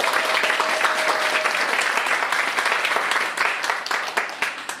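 Sustained audience applause fills a concert hall at the opening of an environmental health concert, dense clapping holding steady before thinning slightly toward the end.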